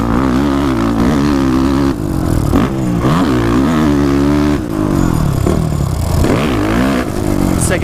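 A dirt bike at Glen Helen Raceway, recorded close from the rider's position, revs hard with repeated rising and falling throttle sweeps as it shifts through gears, loud and continuous.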